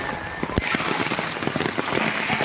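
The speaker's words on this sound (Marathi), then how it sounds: "पावसाने वाट लागली सगळ्याची" Heavy rain pours down in a garden, a dense steady hiss of drops with scattered louder splashes and taps, close and loud throughout, with no voices.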